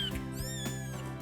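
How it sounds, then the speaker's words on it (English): A newborn kitten, one of two, gives a single loud, close meow that rises and falls in pitch without a break. "looking after these 2 gorgeous kittens"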